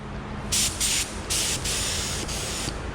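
A paint spray gun hisses in several short bursts, then one longer continuous blast, loud and close, with quiet room noise between, spraying custom flake paint on a forklift.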